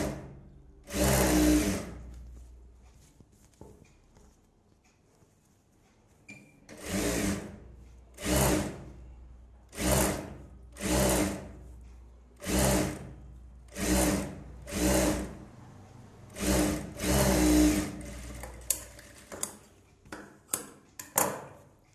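A sewing machine stitches a blouse lining in short bursts of fast, whirring needle runs, about a dozen close, loud runs separated by brief pauses, with no talking.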